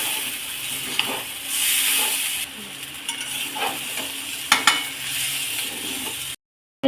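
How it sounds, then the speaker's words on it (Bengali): Shrimp and powdered flattened rice stirred in a frying pan for a banana-blossom shrimp curry, giving a steady close sizzle with scraping spatula strokes for several seconds before the sound cuts off. "চিংড়ি মাছটা দিয়ে দেবো এবার চিড়ের গুঁড়ো দিয়ে এবার একটু হালকা হাতে নেড়ে নেবো"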